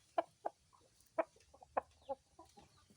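A chicken clucks in short, separate bursts, a handful of quiet clucks spaced unevenly with low background hum.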